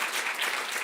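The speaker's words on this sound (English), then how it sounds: "can we give her a round of applause?" Audience applause at a preparedness event, a steady, dense wash of clapping from a crowd, even in level throughout with no voices.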